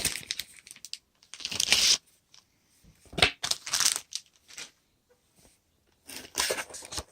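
Sheets of red, blue and silver glitter stock paper crinkle and rustle in several loud, close bursts separated by brief pauses while being handled during a craft box unboxing.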